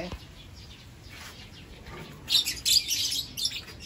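Lovebird chicks chirp in a nest in a breeding box: a brief burst of high, shrill, overlapping chirps toward the end, fairly close, over quiet background.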